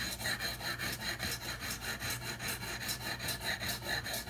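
A sanding block rides lightly back and forth across the metal frets of a guitar or bass during fret levelling, making a steady, close, rhythmic scraping rasp with even strokes and no talking.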